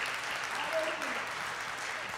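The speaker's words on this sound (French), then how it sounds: "ensemble avec nous pour applaudir Jésus ça" Congregation clapping at a church worship service, a steady dense wash of applause throughout, moderately loud with faint voices mixed in.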